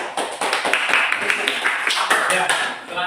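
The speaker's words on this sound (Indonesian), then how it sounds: "Tepuk ya." A class audience applauds after a group presentation, with a short burst of scattered hand claps mixed with voices talking over them.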